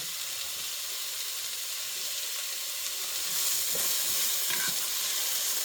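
Onion frying in a pan on high heat, a steady close sizzle that swells slightly louder partway through, with faint stirring clicks.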